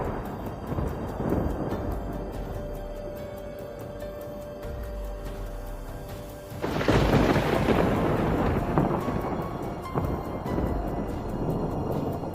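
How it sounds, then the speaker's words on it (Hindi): Thunder and strong wind sweep in from a forest, a continuous low roaring rumble that surges louder around the middle and then stays heavy and dense, with no voices. "अचानक से जंगल की ओर से भयंकर हवाएं चलने लगी और बिजली कड़कने लगी।"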